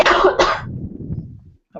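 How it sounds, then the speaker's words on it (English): A single close, rough cough followed by a quieter throat-clearing rumble, then a brief pause. "I just need to cough."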